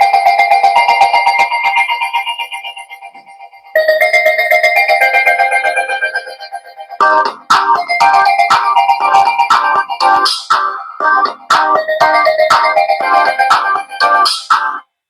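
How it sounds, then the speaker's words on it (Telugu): A Telugu song playing through the loudspeaker of a keypad mobile phone, bright tinny melody and beat, loud and close, with a brief drop before the rhythm picks up more strongly. "ఒక తెలుగు సాంగ్ ఏదన్నా ప్లే చేద్దాం"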